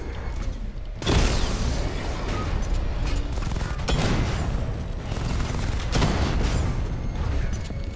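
The Batmobile firing its weapons in Batman: Arkham Knight, loud repeated bursts of heavy gunfire and booming impacts at roughly three-second intervals over mechanical whirring.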